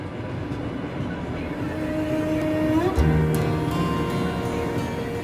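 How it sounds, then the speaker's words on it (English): A passenger train on the Trans-Siberian Railway, crossing into Mongolia, rumbles steadily past with a continuous low roar and faint rhythmic clatter, a brief tonal squeal rising midway. "The Tsarangold train crosses into Mongolia."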